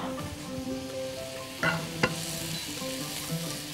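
Chicken and mushrooms sizzle hard in a hot pan, a constant frying hiss broken by a couple of sharp clacks from stirring partway through, heard close with no voices.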